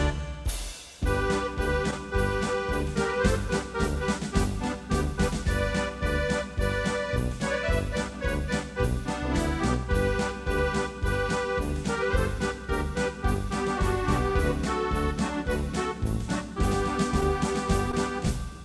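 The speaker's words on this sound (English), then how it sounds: "I am playing on a beautiful Lowry Easy 4." A Lowrey Easy 4 home organ plays a fast-tempo arrangement with full chords, a steady bass, and rhythm accompaniment, loud and continuous throughout with no talking.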